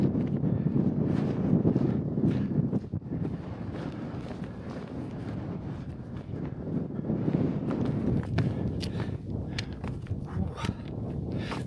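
Wind gusts across an exposed hilltop on a fell hike, buffeting the microphone in a loud, continuous roar that swells and eases, with faint crunching footsteps mixed in.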